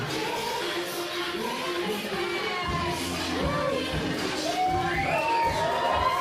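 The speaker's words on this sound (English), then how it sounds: "The crowd feeling it here tonight." Crowd noise fills a women's wrestling arena, a steady roar of cheering and shouting that holds throughout, with some swelling voices toward the end.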